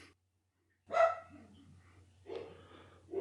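A dog barks a few times nearby in an otherwise quiet setting, short separate woofs spaced about a second apart.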